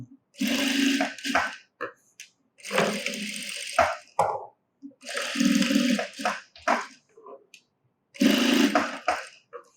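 A sewing machine stitches a V shape into a blouse during an alteration, running in four loud, close bursts of a few seconds each with short pauses between them.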